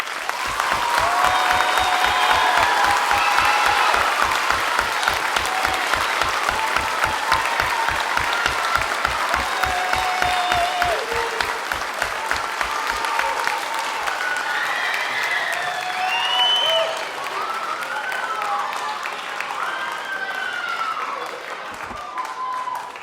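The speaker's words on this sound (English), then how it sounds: "Can we give them a nice big round of applause?" An audience applauds at a high school band spring concert: loud, sustained clapping from a large crowd, starting with a rhythmic pulse, then thinning into looser clapping with whistles and cheers near the end.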